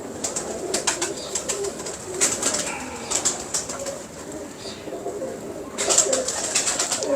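Several pigeons coo in low, throaty bursts, with brief wing flaps and soft rustling nearby.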